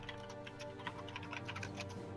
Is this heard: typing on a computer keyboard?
yes